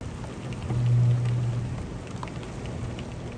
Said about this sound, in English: Hurricane Otis unleashed its fury on Acapulco with destructive winds and relentless rain